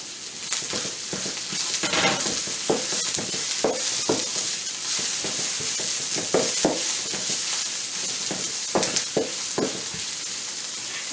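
Homemade shrimp fried rice is stir-fried in a pan, with a continuous sizzle broken by repeated scraping and tossing strokes, close and loud with no talking.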